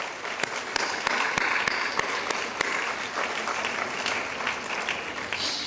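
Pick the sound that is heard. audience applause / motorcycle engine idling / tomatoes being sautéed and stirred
audience applause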